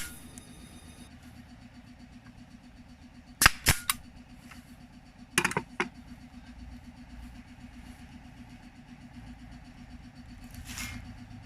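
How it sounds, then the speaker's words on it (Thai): Staple gun firing staples into a wooden table being built from a single piece of wood, two sharp bursts of snapping shots with a quieter click between, over steady low hum. "ผมจะยิงแบบนี้นะครับ ยิง แม็กด้วย"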